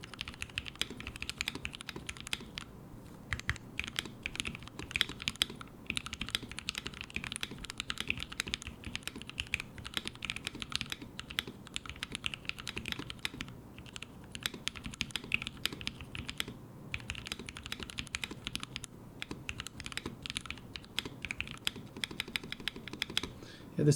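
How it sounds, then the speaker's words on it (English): Rapid, steady typing on an HHKB Lumina mechanical keyboard, a dense run of close, crisp key clicks with occasional heavier spacebar strokes, going on without pause for the whole stretch with no talking. "now we can do a little typing test"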